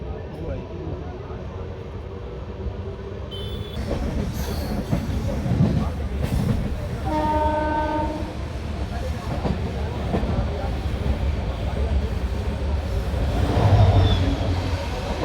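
The 12482 Shri Ganganagar–Delhi Intercity Express running on rails, heard from inside: a steady loud rumble with clickety-clack wheel beats and brief squeals, while a voice talks over it.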